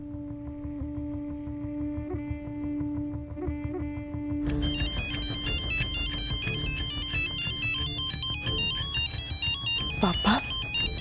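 A phone ringtone in a Hindi TV serial plays as a steady electronic tune through the clip, louder and brighter after the first few seconds, with speech-like sounds mixed in.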